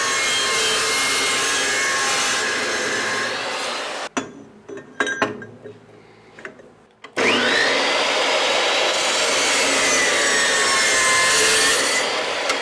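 A saw cuts through bent steel tube for a roll cage, a loud continuous grinding rasp that stops briefly mid-cut, leaving quieter clinks, then resumes.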